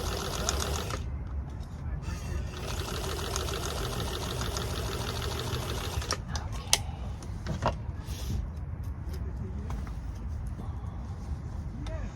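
Sewing machine runs in a steady whirring, rapid stitching stretch for several seconds, then stops, leaving quieter handling clicks and room noise.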